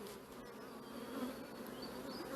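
Honeybees at an open beehive in an apiary make a close, steady buzzing hum, with no voices over it.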